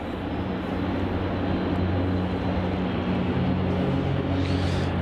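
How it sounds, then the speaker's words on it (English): Rex Airlines Saab 340 turboprop taking off from Melbourne Airport, bound for Mildura, heard as a steady, loud engine roar with a low droning hum that holds throughout. "Taking off here, we have Rex flight ZL3656 off to Mildura. It's a Saab 340."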